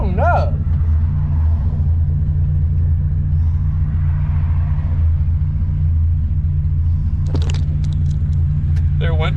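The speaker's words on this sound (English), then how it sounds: "That car's coming, y'all. That car's coming." Steady low car rumble runs throughout, a vehicle passing close on a road, with brief voices cutting in at the start and near the end.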